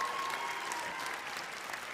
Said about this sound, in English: How about another round of applause for the contestants in their Emily Sue athletic wear?